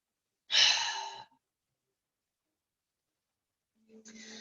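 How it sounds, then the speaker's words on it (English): A deep exhale through the mouth during gentle yin yoga, one long breathy release lasting under a second, then quiet before another breath begins softly. "exhale out of the mouth"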